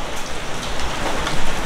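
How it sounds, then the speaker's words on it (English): Heavy rain pouring in Kyoto, a loud, steady hiss of drops drumming on surfaces up close, with no talking. "We are here and it is just pouring rain out there."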